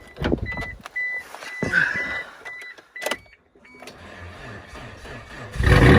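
Clicks and a whirring starter crank, then a Suzuki XL-7 SUV engine catches and settles into a low rumbling idle, close by.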